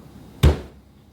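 A single dull thump as coriander root is pounded in a kitchen while making red snapper soup, a close, heavy knock that fades quickly, with no talking.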